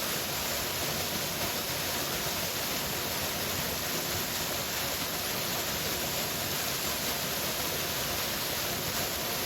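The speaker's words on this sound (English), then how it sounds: "The sound of rushing water fills your ears" Rushing waterfall water, a constant broadband roar of falling water that stays even and unbroken throughout, with no voices.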